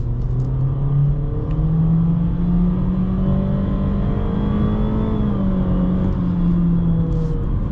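A 2023 Honda HR-V EX-L AWD crossover in sport mode accelerates at full throttle, its engine drone climbing steadily in pitch through the gears as a loud, continuous rev with a brief shift dip near the end.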